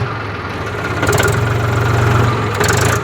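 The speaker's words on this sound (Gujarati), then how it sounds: "ટ્રેક્ટર" Tractor engine idling on a farm, a steady low mechanical rumble with a slight knocking pulse, close and continuous, rising a little in intensity midway before settling.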